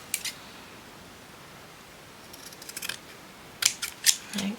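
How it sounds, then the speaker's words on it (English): Scissors snip a piece of paper for a small journal pocket, with a soft early cut followed by a cluster of sharper, closer snips toward the end. "Let's snip a piece off."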